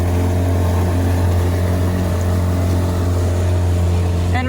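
A small outboard motor pushes a dinghy across the water with a loud, steady, close drone that holds constant throughout.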